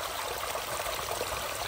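Water spills off rocks into a backyard DIY stream and waterfall, a steady close rushing and trickling wash that stays even throughout.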